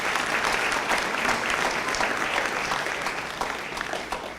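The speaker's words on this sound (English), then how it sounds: "students, let's give your parents a round of applause for that" A graduation ceremony audience in Eleuthera gives parents a round of applause. Dense, even clapping fills the hall continuously from start to finish without any speech over it.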